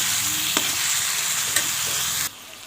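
Prawn curry being stirred in a hot pan, with a steady frying sizzle broken by a couple of sharp spoon scrapes, then cutting off suddenly near the end.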